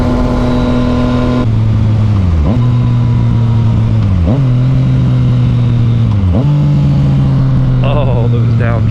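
Yamaha FZ-09 motorcycle engine held at steady revs, then dropping pitch through three quick downshifts with brief blips between them, loud and close throughout, with talk faintly underneath.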